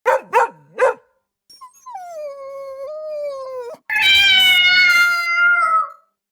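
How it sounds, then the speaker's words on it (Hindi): Dogs at night in a spooky story sound effect give three sharp yelps, then a long wavering howl, then a loud strained howling cry, all close and prominent with no speech. "आसपास से कुत्तों के रोने की आवाज आ रही होती है।"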